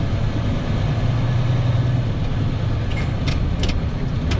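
A truck engine pulls steadily under throttle during a CDL driving lesson as the rookie shifts gears, a continuous loud low rumble with brief higher mechanical clinks near the end.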